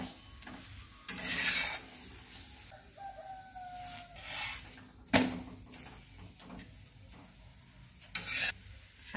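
Polis, flatbreads, roast on a pan and are turned over, giving a quiet, steady sizzle broken by brief scraping and tapping bursts as each is flipped; a rooster crows faintly in the background.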